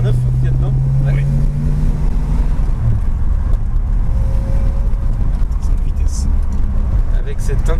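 Engine of a 1966 Ford Mustang with the 289 V8 and manual gearbox, a steady low rumble heard from inside the cabin while driving, with people talking over it.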